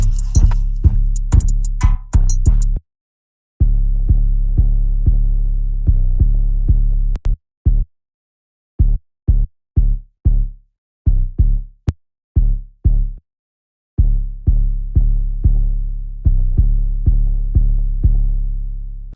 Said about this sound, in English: Alright, so we'll start on the 808.